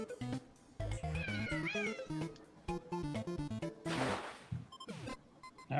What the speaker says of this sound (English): You just hear that weird meow.